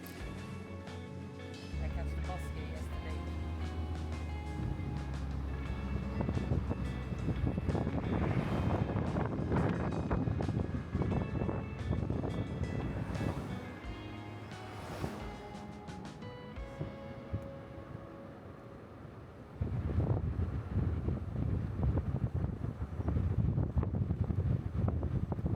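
Wind buffets the microphone on the deck of a ferry running from St Kitts to St Maarten, a steady rushing roar over engine and water noise that dips briefly before picking up again.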